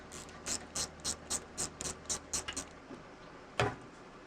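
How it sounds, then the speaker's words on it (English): Regular ratcheting clicks while unscrewing the oil pump on a 1947 Allis Chalmers Model C tractor, about ten quick close bursts followed by a pause and one louder metallic clack. "You unscrew everything until it comes off."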